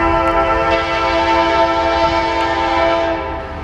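A Norfolk Southern northbound mixed freight train in Marion, Ohio sounds a loud, sustained multi-tone horn close by, holding steadily before beginning to fade at the end, with no talking.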